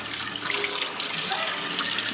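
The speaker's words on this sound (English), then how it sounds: "I'm going to just run it underneath some water" Tap water runs steadily into a sink, rinsing acid off a piece of etched glass, a constant loud hissing splash with no pauses.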